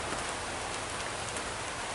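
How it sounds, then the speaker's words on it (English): Steady rain falling outdoors, a dense, even hiss of drops with no pauses, moderately loud and unbroken throughout. "it's starting to rain harder"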